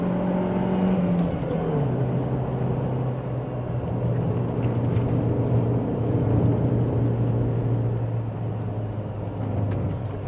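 Engine of a manual car pulling in fourth gear after an upshift, a steady low drone with the pitch dropping at the shift and then holding evenly, heard from inside the cabin with no talk.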